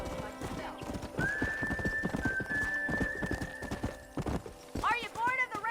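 In the Red Dead Redemption video game on Nintendo Switch, horse hooves clip-clop in a steady rhythm under a long, thin whistle-like tone, then a horse neighs clearly near the end, with talk throughout.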